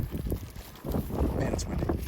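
Outdoor wind gusts rumble across the microphone in a continuous low roar while someone is out picking up trash, loud and buffeting throughout.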